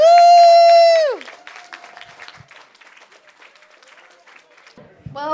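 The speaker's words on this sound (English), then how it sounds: "Give them a round of applause. Get on your feet." Audience at a college student panel on flex day rising to applaud and cheer: a loud, sustained high whoop opens, then softer scattered clapping continues quietly, with a voice returning at the very end.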